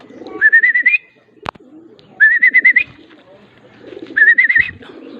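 Pigeon cooing and calls repeat in three bursts near the loft as a racing pigeon arrives, with a sharp knock between bursts and faint low voices underneath.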